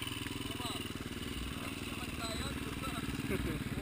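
Dirt bike motorcycle riding up a trail among a group of trail riders, its engine droning and rumbling steadily close by, with people talking over it throughout.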